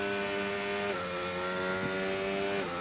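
A race car engine strains on a wet track in a sim racing game, holding a loud sustained high whine whose revs waver and dip as if traction control cuts in, with no voices.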